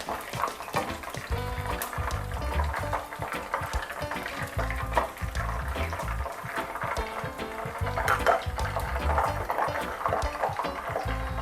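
Chicken wings deep frying in hot oil over high heat, a dense, steady crackle and bubbling that holds throughout, close and fairly loud, with a few scraping clicks of a utensil.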